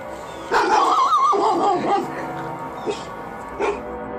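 Dog vocalizing with a wavering, whining bark-howl followed by a few shorter yips, fairly close and loud over a low background.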